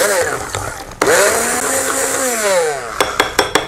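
Kitchen blender whipping coleslaw dressing, a loud close whine that jumps in pitch as it speeds up, runs steadily, then cuts off into a few sharp knocks.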